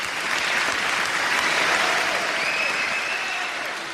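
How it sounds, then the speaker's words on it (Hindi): Loud, dense applause from a concert audience welcoming the ghazal singer Talat Aziz onto the stage, a steady roar of clapping that fills the whole stretch without pause. "ज़ोरदार तालियों से स्वागत कीजिए तलत अज़ीज़ जी का।"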